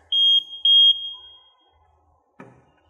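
A wireless smoke detector being connected to a fire alarm system gives four short, piercing high beeps up close, then falls quiet before a single soft click.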